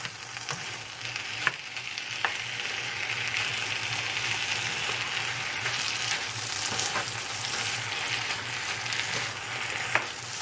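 Potatoes fry in a pan for Mumbai pav bhaji, a continuous moderate sizzle broken by a few sharp taps and scrapes of stirring.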